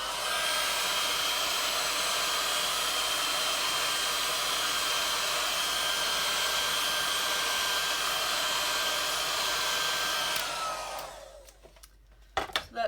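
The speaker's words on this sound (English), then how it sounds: "I'm gonna give it a zap with my heat gun" Heat gun blowing over thick resin poured in a Christmas coaster mould; a loud steady whooshing drone for about ten seconds, then it winds down and cuts off, followed by a few soft knocks.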